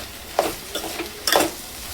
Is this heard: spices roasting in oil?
yes